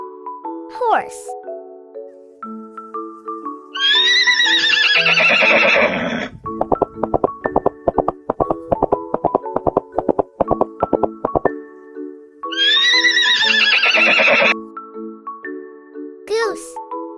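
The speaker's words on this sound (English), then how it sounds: "horse." A cartoon horse gives a loud whinny, then hooves clip-clop in a quick steady run, followed by another neigh, all over a cheerful children's melody.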